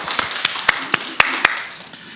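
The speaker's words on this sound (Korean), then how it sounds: "우리 예배를 받으신 하나님께 영광의 박수 올려드립니다" A church congregation claps in unison during a worship service, producing sharp, evenly spaced claps in a quick steady rhythm that fade slightly toward the end.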